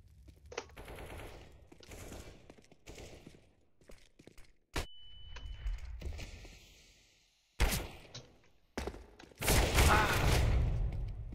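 Gunfire in a CS GO competitive match, with scattered single shots, sharp cracks and short automatic bursts separated by quieter gaps, ending in a loud sustained volley.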